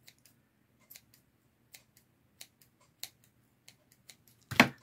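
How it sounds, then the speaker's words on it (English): Snips of poor-quality scissors cutting ribbon for a bow on a Christmas ornament, a dozen or so short, irregular, fairly close clicks over a quiet hum, ending in a louder, longer rasping cut. "I need some better scissors."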